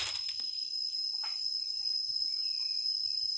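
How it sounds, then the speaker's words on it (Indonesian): Crickets chirp in a thin, high, continuous trill across a quiet fruit-tree garden in Prabumulih, with a couple of faint brief sounds in the background. "ada bunyi jangkrik."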